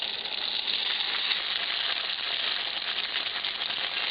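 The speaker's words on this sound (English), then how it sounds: "So I'll take one of these, dip that right in. So there you have it, deep fried wontons." Wontons deep frying in hot oil, a dense continuous sizzle and crackle close to the pan, steady and loud throughout with no talk.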